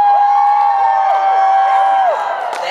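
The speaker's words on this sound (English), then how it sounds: "let's cheer loudly for everyone" A dance show crowd keeps up a long, loud cheer of overlapping shouts and whoops, steady throughout and easing slightly near the end, with no one talking over it.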